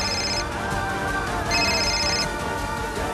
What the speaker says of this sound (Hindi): मम्मी जी फोन कर रही।